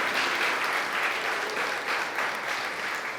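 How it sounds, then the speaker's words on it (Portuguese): Church congregation applauding together, a steady dense wash of clapping that holds for the whole stretch without pause, loud and close with no voices standing out. "Eles vão bater palma para o Senhor."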